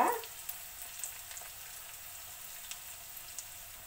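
Dried red chilies and green chilies fry in oil for an ivy gourd coconut fry, a quiet, steady sizzle broken by a few faint, sparse crackles and pops.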